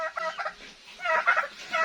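Turkeys gobble in a few bursts of bright, warbling calls with short pauses between, fairly close and with no voices over them.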